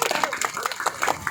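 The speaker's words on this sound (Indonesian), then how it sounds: "Tepuk tangan semua." Crowd at a joint meetup of Yamaha motorcycle clubs from South Sumatra claps briefly, a short burst of close, lively applause with crowd murmur.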